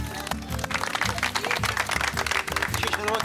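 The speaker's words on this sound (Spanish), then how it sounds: "un aplauso para todos" A burst of applause and clapping from a small group in Calbuco, Chile, an uneven, lively patter of hands with voices mixed in, close and moderately loud.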